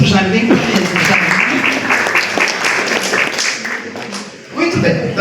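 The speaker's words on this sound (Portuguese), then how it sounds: "Palmas para todo mundo." A public lecture audience at a university in Brazil claps for everyone present, a dense, loud burst of applause close by that dips briefly before swelling again.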